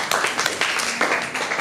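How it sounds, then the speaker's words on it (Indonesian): A high-school class breaks into applause, a dense burst of many hands clapping that stays fairly loud and even for under two seconds, with no talk over it. "tepuk tangan"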